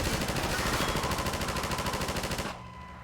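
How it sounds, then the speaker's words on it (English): A minigun in Half-Life 2 fires a fast, continuous stream of rounds for a few seconds, loud and close, then cuts off abruptly, leaving a quieter hum. "Or I could just use the minigun."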